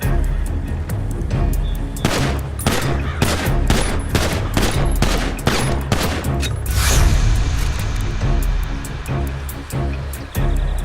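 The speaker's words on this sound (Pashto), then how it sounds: "بس دی پې ډزې" A rapid fusillade of gunshots in a crime drama, a long string of loud, sharp cracks in quick rhythm with a heavier boom near the middle, echoing and close.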